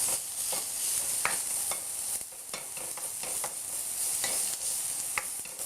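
Oyster and king oyster mushrooms stir-fried for japchae, with a steady sizzle under repeated scraping and stirring strokes from a spatula, close and continuous.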